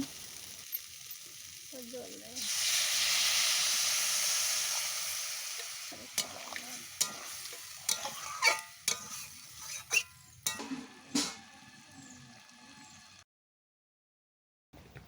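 Fried bitter gourd dropped into spiced masala in a Bengali kitchen pan sets off a loud burst of sizzling that fades, followed by a string of scattered scrapes and taps from stirring before the sound cuts out.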